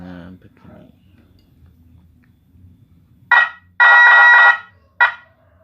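An atret multi-tone reversing car horn sounds in three loud blasts, short, long, then short, each a bright, buzzy chord, after a few seconds of faint low rumble.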